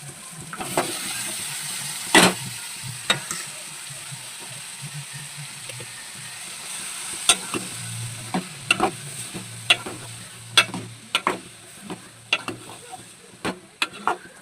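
Cucumber pieces fry in a pan as they are stirred. A soft sizzle runs underneath, and sharp scrapes and clicks of the spoon recur irregularly, fairly quiet and without talk.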